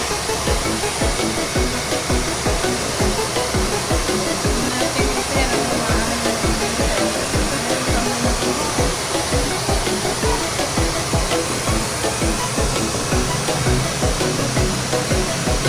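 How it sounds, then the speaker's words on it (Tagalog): A hair dryer blows loud and steady from start to finish, a constant rushing whoosh with faint voices or music buried beneath it. "May blower na."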